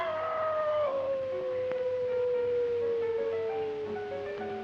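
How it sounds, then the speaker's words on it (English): A lone wolf howls on the night air in the 1935 film Werewolf of London, one long sustained wavering howl that slowly falls in pitch, loud and close, with no voices. "they hear the howls of a wolf on the night air"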